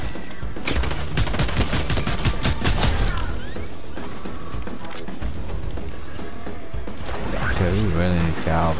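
Gunfire in Fortnite: a dense, loud rattle of rapid automatic shots in the first few seconds, then continued mixed game noise and thuds, with a voice talking near the end.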